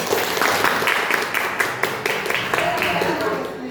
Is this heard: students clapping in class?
yes